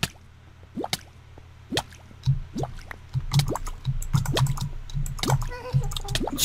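Squishy, dripping bursts of water fired in a fantasy mage video game, a quick run of wet splats and drips that build in density over a low in-game hum, with no talking.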